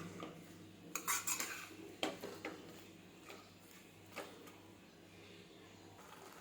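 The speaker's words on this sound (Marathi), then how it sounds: "हे व्यवस्थित याच्यामध्ये फ्राय करून घेऊ म्हणजे पूर्ण मिक्स करून घेऊ" A spatula scrapes and knocks against a pan while spring onion greens are stirred and fried, with a few sharp metallic clinks early on, then softer intermittent scraping, quiet and close.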